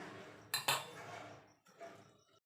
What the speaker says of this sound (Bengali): দুধের মধ্যে গুড়টাকে ভালো করে মিশিয়ে নেব যতক্ষণ গুড়টা গলে না যাচ্ছে।